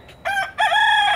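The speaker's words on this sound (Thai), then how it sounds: "ดูไก่เขา" A rooster kept on the grounds of a temple in America crows close by and loud: a short opening note, a brief pause, then a longer sustained crow.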